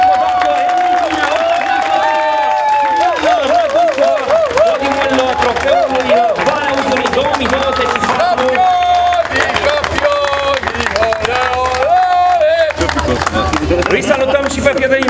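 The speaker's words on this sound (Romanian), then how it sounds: "Felicitări și haideți să-i aplaudim!" A crowd at a Darmanesti motorsport trophy event applauds and cheers throughout, a dense sustained clatter of clapping and shouts under a loud announcer's voice speaking over it.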